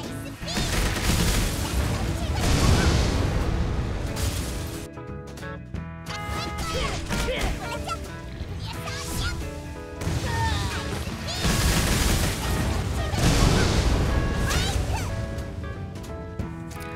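Ice Beam skill attacks in the game Dragon Nest, a dense stream of crackling icy blasts, crashes and shimmering tones layered over loud game music, continuous and full throughout.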